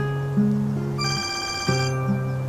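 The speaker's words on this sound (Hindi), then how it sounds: "तुम्हारा फोन बज रहा है।" An electronic mobile phone ringtone plays a repeating melodic pattern of steady tones, close and clear, with no voices.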